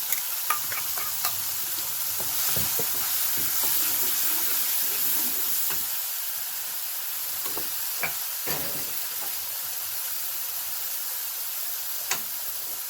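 Asafoetida and gravy frying in a pan over low heat, a steady soft sizzle with occasional scraping clicks of a spoon stirring, close and continuous.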